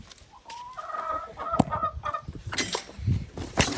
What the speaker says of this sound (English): Rhode Island Red, she's a hen.